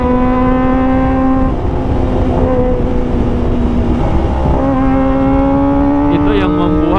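A Kawasaki ZX25R motorcycle fitted with an Arrow Pro Race exhaust revs loudly and close, its raspy, high-pitched engine note rising and falling through several throttle blips.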